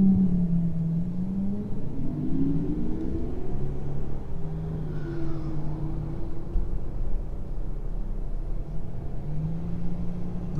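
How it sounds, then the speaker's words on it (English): A BMW car drives along a Patong street in Phuket, its engine a steady close rumble with a rising and falling whir as it passes, no talk. "He's a BMW."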